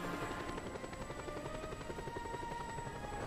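A helicopter in the video game Just Cause 2 flies steadily, its rotor thumping in a continuous, loud, even drone with no speech over it.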